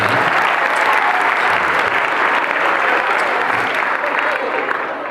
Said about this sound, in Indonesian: tepuk tangan buat adik kita